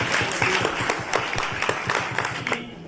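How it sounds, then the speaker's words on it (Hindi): An audience at a school science quiz claps loudly and steadily for about three seconds, with sharp individual claps standing out before the applause trails off at the end. "सर के लिए भी तालियां।"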